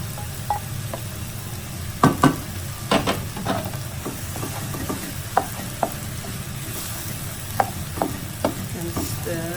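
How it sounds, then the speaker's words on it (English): Fried rice for nasi goreng is stirred in a hot pan with a scooping motion, a steady sizzle running under repeated scraping clatters of the spatula, several sharp knocks standing out near and loud. "Stir for 2 minutes using the scooping motion"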